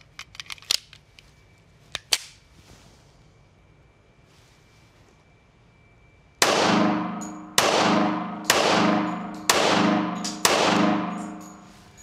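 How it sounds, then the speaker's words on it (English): A brand new Springfield Armory Operator 1911 pistol fires five loud, sharp shots at a steady pace about a second apart, each with a ringing outdoor decay, after a few faint handling clicks. "Let's shoot 5 more rounds, and then we'll reload."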